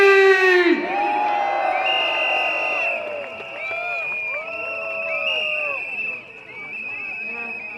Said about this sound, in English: can we give a cheer for the G?